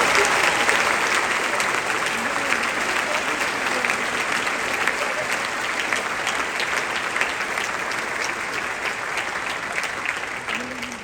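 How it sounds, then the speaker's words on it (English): A large crowd claps steadily, a sustained, loud wash of applause that holds throughout without fading. "Please give them a round of applause."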